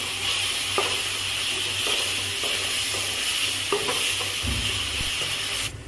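Ginger paste goes into spices frying in a pan with chilli powder, for a prawn and taro-greens dish: a steady close hiss of oil under scattered clicks and scrapes of stirring, with a few soft low knocks, and no talking.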